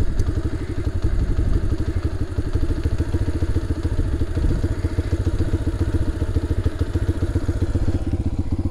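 A Chinese dirt bike engine idling after an idle adjustment, a close, steady, rapid thumping putter that stays even throughout.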